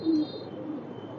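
Pigeons in full moult at a pigeon sale, one low coo near the start, then a faint steady murmur of birds for the rest of the moment, with no talk over it.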